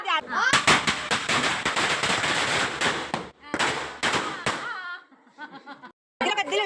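A rapid string of sharp firecracker bangs crackles loudly during Vishu celebrations, with people talking and calling out over and between the bursts.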